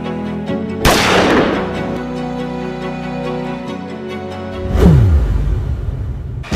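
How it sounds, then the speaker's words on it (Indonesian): Dutch ammunition explodes during a short war film about Bandung Lautan Api: a sudden loud blast that rings and decays, a lower tonal hum between, then a second heavy boom near the end. "amunisi Belanda meledak"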